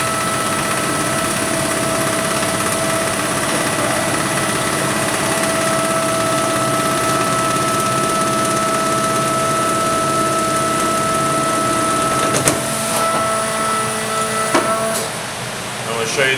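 A 1996 Vacuumatic Vicount 2 programmable paper counter runs in count mode, a steady mechanical hum and whir with tonal lines, continuous and close, with a few clacks and a brief change near the end.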